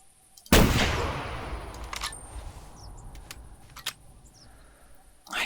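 A single loud hunting-rifle shot in the video game theHunter: Classic, a sharp crack followed by a long rolling echo that fades over several seconds, with faint small clicks afterward.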